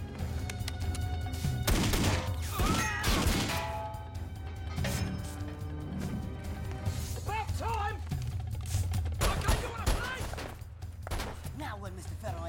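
Gunfire in an action film scene, with sharp shots and bursts cracking through the mix. Voices and other effects overlap the shots throughout.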